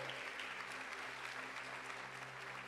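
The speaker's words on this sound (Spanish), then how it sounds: "Vuelvo a pedirle que se dé un aplauso esta mañana" Church congregation applauding during a Spanish-language sermon, a steady, fairly faint wash of clapping over a low hum from the room's sound system.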